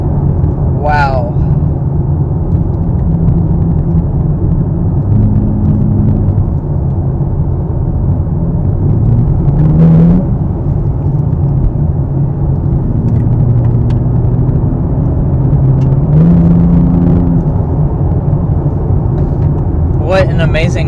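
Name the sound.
2023 Nissan Z Sport 400 hp engine accelerating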